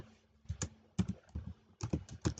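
Computer keyboard keys clicked in short irregular clusters, close and fairly quiet, with brief pauses between bursts of typing and no voice.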